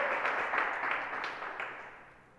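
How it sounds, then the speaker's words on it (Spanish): A church congregation claps in a broad wash of applause that starts strong and gradually fades over a couple of seconds, heard from within the hall. "A ver cuántos le dan el primer aplauso al Señor en esta hora"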